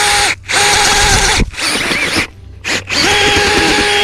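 A loud power auger whirs steadily drilling a hole in dirt, cutting out briefly a few times before spinning back up, with grinding and churning under the motor's hum.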